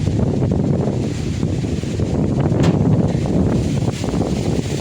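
Strong wind buffets the microphone at a high, open viewpoint, a loud, continuous low roar with gusty rumble throughout and no talk.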